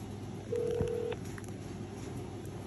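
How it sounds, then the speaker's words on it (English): A single telephone keypad DTMF tone sounds steadily for about half a second, fairly loud and clear over a faint line hiss during a call to an insurer's roadside assistance line. "So you need to dial it on your phone."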